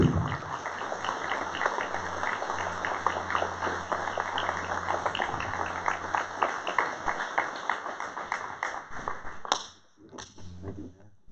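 Live audience applauding to welcome Charles Lee Sr. onstage, a dense, steady wash of many hands clapping that holds for several seconds, then thins to a few scattered claps before briefly swelling again.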